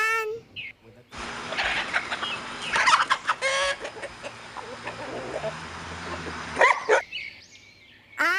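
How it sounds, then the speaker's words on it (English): Chickens cluck and squawk close by amid farmyard noise, with a louder burst of calls in the middle and near the end. "H for hen."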